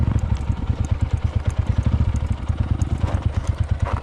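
A stunt motorcycle's engine runs close by in a rapid, steady pulsing putter at idle, with light mechanical clatter on top and no voices.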